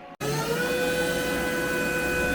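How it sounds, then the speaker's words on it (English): A CNC mill cuts with a tiny 1/32 inch ball end mill, spiraling down into the workpiece. After a brief gap at the start, a steady, high whining hum with sharp tonal lines carries on alone. "we're on to that ball mill. This time I'm spiraling down instead of doing a full depth of cut."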